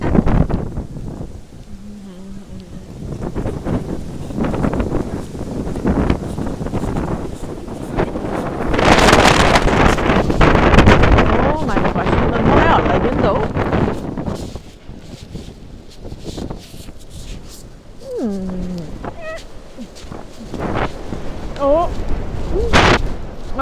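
Wind of a heavy storm in London, roaring and gusting steadily for the whole stretch, loud buffeting against the microphone with a few brief vocal sounds near the end.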